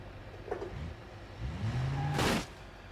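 Car engine in the BeamNG.Drive driving game revving in short bursts, with a rising whine and a louder surge near the end before it cuts off.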